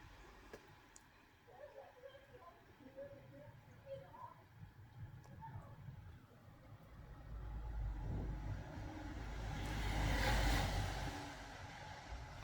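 Low road traffic rumble runs steadily through the scene, swelling into a louder pass of a nearby vehicle toward the end, with faint birdsong above it early on.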